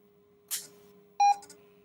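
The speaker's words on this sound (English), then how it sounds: "It'll beep." A monitor switched on at its back switch gives a sharp click followed by a short electronic beep with a few quick tonal blips, clear and close against a faint steady hum.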